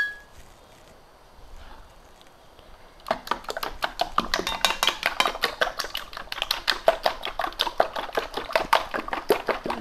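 A spoon beats eggs in a bowl for chonta empanadas, a quick steady run of close clinking taps that starts after three seconds of near silence and keeps a fast even rhythm.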